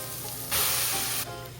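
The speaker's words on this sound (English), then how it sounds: "Now we will add a cup of boiled quinoa and green peas." A short, loud hiss flares up for under a second as boiled quinoa and green peas hit sizzling masala for a vegan stuffed bell pepper filling, then settles back to a low sizzle.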